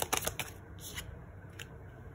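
Tarot cards riffled and snapped during a pick-a-pile reading, a few quick crisp bursts of card flicks near the start, then soft sliding and a couple of light taps against a quiet room background.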